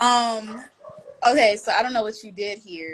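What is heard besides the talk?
dogs barking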